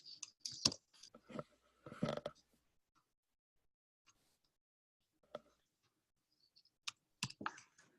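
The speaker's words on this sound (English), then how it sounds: "I'm typing my email address right now" Sparse clicking keystrokes of someone typing an email address on a computer keyboard, in short irregular bursts separated by quiet gaps, faint and close, with no talk.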